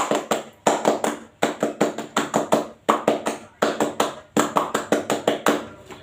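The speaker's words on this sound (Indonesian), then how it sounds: "2 kali tepuk Pramuka." Pramuka scouts doing their clapping pattern: loud, crisp hand claps in quick rhythmic groups, the sequence repeated twice with short pauses between rounds and no talk.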